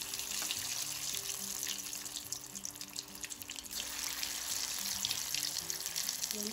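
Vazhaipoo kola urundai, banana-flower balls, fry in hot oil over medium heat, giving a steady close bubbling hiss that holds fairly even throughout with a little crackle on top.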